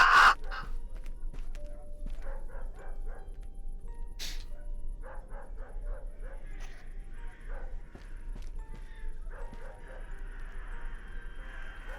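Crows caw in the horror survival video game DarKnot: scattered short harsh calls in clustered bursts over a quiet ambient background, some nearer and louder, others fainter, with sparse sound effects between.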